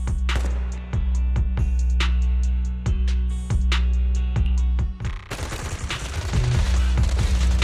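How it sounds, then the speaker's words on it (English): Suppressive marching gunfire in the video game Zenless Zone Zero: sharp, evenly spaced shots crack out in a steady rhythm, then give way to a denser, noisier barrage near the end. "Gunfire? This pattern. Suppressive marching fire."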